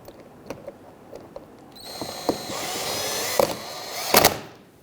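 Power drill driving screws into the front bumper cover of a 2011-2023 Dodge Charger 3.6L V6, a close whirring burst from about two seconds with brief trigger spurts and a final sharp rise near the end.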